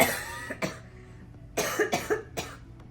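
Someone coughs several times in a row, a few separate harsh bursts with short pauses between, close by.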